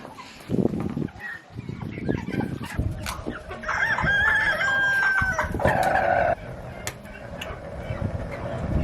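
Hens cluck steadily while a rooster crows loudly nearby, a long drawn-out call in the middle, with a person talking briefly now and then.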